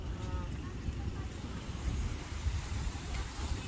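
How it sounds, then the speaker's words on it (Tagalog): A dense roar of strong churning ocean waves and wind rumble at a beach in Ilocos fills the clip, low and continuous with gusty surges, like standing by rough surf. "Malakas yung alon."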